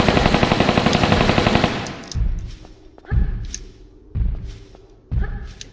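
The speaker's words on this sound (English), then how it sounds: "And then what I'll do is just get out the Uzis as well." Rapid Uzi gunfire from the video game Tomb Raider 3 rattles in a dense, loud burst, then gives way to several heavy, spaced thumping shots.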